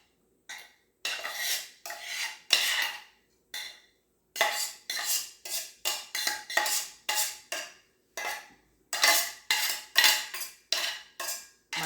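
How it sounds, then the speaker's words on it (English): Bowls, pots and pans clink and scrape steadily while vegan holiday cornbread dressing with veggies is stirred, a close run of bright metallic knocks and rubbing strokes with short pauses and no talking. "I'm always clinking the bowls or the pots and pans."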